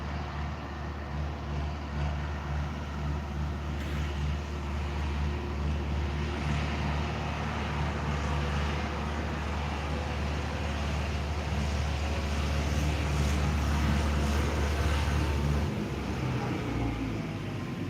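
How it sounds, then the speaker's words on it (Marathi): A heavy engine drones steadily throughout, a low continuous rumble like a tractor idling or rolling nearby, slightly swelling before cutting lower near the end. "थोडासा ट्रॅक्टर जाऊ द्यात बोलूयात"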